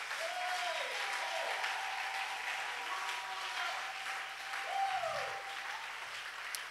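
A congregation at a French-language church teaching seminar claps steadily together, a sustained, dense round of applause with a faint sung or voiced tone drifting through it.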